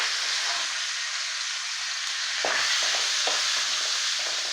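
Green chillies and curry leaves drop into hot oil already frying chana dal and urad dal, a steady hiss that breaks into sharper crackling sizzle partway through, close up with a few stirring scrapes.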